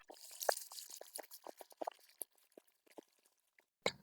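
Chicken pieces fry in hot oil in a pan, sizzling and crackling, with scattered pops and bubbling that grow sparse before a final louder burst.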